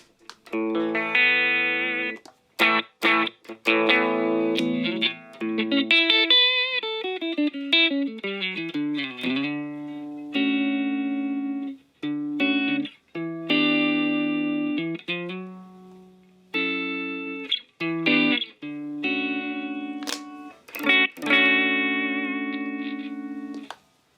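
Clean electric guitar played through a Spark Go amp with effects and reverb removed: chords and single-note runs ringing out clearly, with short pauses between phrases and no talking.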